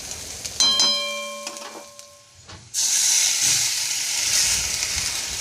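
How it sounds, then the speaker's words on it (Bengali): Onion fries in a pan over a tempering of dried red chili. Faint ringing bell tones come first, then a loud, steady sizzle and hiss takes over and continues. "পেঁয়াজটা হালকা করে লাল লাল করে ভেজে নিচ্ছি"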